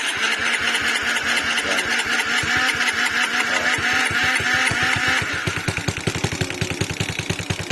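A Suzuki Raider J115 Fi motorcycle with a 57mm bore and an 8-hole injector cranks at length after an ECU reset, with rapid starter chugging that then catches into a loud, quick-pulsing idle.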